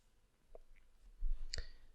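Two crisp computer mouse clicks in a quiet room, a faint one first and then a sharper, closer click near the end, with no talking.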